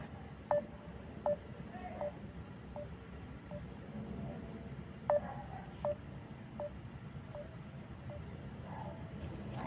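Phone dialing tones from a call being placed, a series of short beeps at irregular intervals over a low background hum, faint and close.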